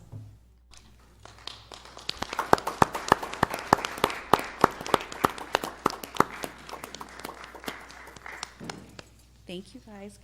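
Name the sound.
audience applause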